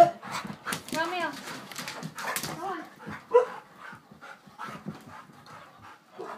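Several puppies romp and play indoors, panting, whimpering and yelping in quick bursts close to the mic, while people talk and laugh over them throughout.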